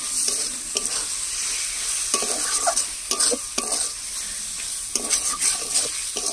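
Boneless chicken pieces sauté in oil in a pan. A steady sizzle runs throughout, broken by repeated scraping strokes of a spatula stirring the meat at a fairly even rhythm, with no talking.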